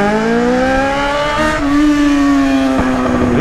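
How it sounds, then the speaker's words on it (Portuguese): A Yamaha XJ6 motorcycle engine under hard riding, a loud, close, smooth howl with rising pitch as it accelerates, a brief dip at a gear change, then a steady high drone. "Como essa moto é ligeira, mano."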